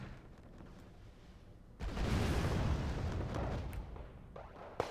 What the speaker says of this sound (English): just getting some very nice RPG shots off